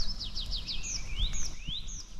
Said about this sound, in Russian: И прям слышу, птицы поют.